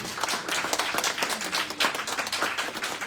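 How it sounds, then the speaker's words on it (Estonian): Clapping at an Estonian book launch event, a dense run of hand claps with no talk, steady and moderately loud from start to finish. "Kerdo tahtis plaksutada"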